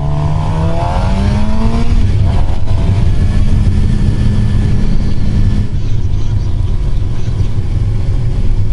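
A 2015 Suzuki GSX-R750 sport motorcycle engine roars steadily while being ridden, loud and close, with shifting engine tones and constant wind rush, no talking.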